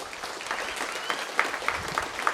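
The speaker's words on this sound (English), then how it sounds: "Let's give them a big round of applause." Audience at a college Hall of Fame induction ceremony breaks into applause, a steady wash of many hands clapping with a few sharper individual claps standing out near the end.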